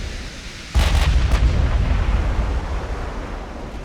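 Heavy warship turret guns firing in the naval game Ultimate Admiral: Dreadnoughts: a sudden loud boom with a sharp blast, a quick follow-up report, then a long rumbling roar that fades slowly, no voices.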